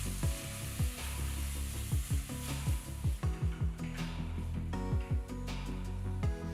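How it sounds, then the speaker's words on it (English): Onions, ginger garlic paste and sliced tomatoes sizzle steadily in a pan, with a continuous frying hiss broken by repeated scraping stirs from a spatula, close and fairly loud, with no talking. "add 1 teaspoon ginger garlic paste, 2 large tomatoes thinly sliced and saute well"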